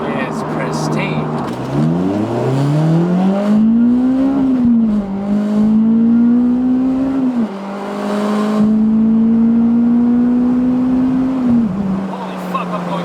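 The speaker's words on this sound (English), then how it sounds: "As you guys can listen to the tone of the car, you know, with the spoon N1 exhaust" Acura RSX Type S with a Spoon N1 exhaust pulls through several gears on the road, the exhaust tone rising and dropping with each shift, loud and close from inside the car while someone talks over it.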